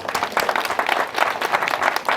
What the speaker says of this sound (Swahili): Wapi makofi mazuri.